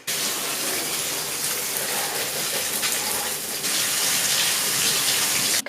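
Water from a tap or shower runs steadily over hair extensions to rinse out conditioner, a continuous close gushing spray that stays even throughout.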